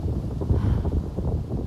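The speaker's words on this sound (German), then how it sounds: "Dieser Platz ist sehr windig." Steady low rumbling buffet of wind hitting a microphone, continuous and fairly loud throughout, with no clear voices.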